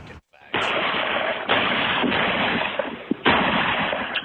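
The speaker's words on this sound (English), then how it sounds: "all of a sudden you hear multiple gunshots" Several gunshots ring out one after another on a residential street, loud sharp cracks with echoing tails, four or five shots in an uneven sequence.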